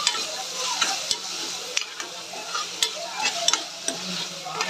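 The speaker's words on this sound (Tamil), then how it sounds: "இப்போ தக்காளியும் இதை சேர்த்து நல்லா சாஃப்டாகிற வரைக்கும் வதக்கிக்கோங்க." Tomatoes sautéing with onions in a pan for a mutton kolambu, a continuous close sizzle punctuated by regular light taps and scrapes of a spatula stirring, with no talking.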